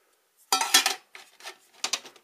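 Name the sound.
aluminium plates and saucepan being handled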